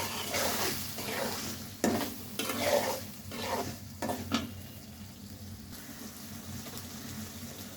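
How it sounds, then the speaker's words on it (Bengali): Large local prawns go into a pan of cooked-down spice masala and sizzle while being stirred, with a hiss that rises in short bursts around spoon scrapes, then settles into a quieter, steady frying. "মশলাটা কষানো হয়ে গেছে, এই চিংড়ি মাছটা দিয়ে দিব।"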